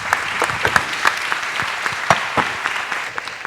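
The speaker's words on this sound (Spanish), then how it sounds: "Les pedimos con este cálido aplauso al panel minero" An audience applauds a mining panel at a conference in Argentina, a steady wash of many hands clapping with a few sharper claps standing out, fairly close and even in level throughout.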